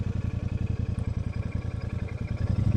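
A Royal Enfield Super Meteor motorcycle rides along, its engine throbbing in a steady, even pulse that stays close and moderately loud from start to end, with no voices.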